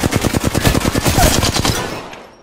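Sustained automatic gunfire in a battle-royale-style video game, a loud, steady stream of rapid shots lasting about two seconds before fading out.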